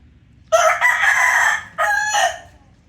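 A four-month-old McLean and Miner blue gamecock crows loudly and close, one long call broken into two bursts, with quiet background before and after.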